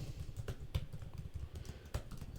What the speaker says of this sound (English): So again, I'm going to type it out.